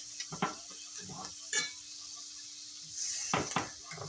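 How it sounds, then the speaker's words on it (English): A pat of butter sizzling in a frying pan that just fried bologna, a steady hiss under scraping and clinking of utensils against the pan, close by. "take a pat of butter, put it in the pan, same pan"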